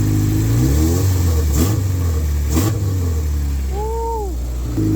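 A Honda K-series engine in a car revs up twice in quick blips over a steady idle, close by and fairly loud, then settles back to idle.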